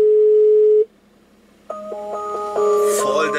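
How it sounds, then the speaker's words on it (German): A phone call ringing out with a steady, loud tone, followed by a pause and then a rising series of layered electronic tones, as someone calls a brother from outside his front door. "Und auf jeden Fall rufe ich den jetzt mal an."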